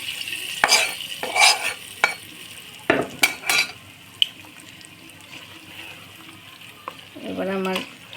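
Hot tempering spices poured into cooking meat for kala bhuna, giving a few sharp stirring clatters and then a brief sizzling burst near the end, close by with no talk.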